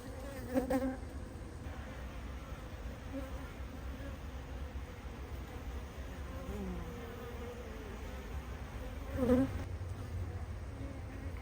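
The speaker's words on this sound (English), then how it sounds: "There's just a worker bee in there, there's nothing in there, just a worker bee." A worker honey bee buzzes inside a hive, a soft continuous hum with a couple of brief louder passes, close but faint, with no talk.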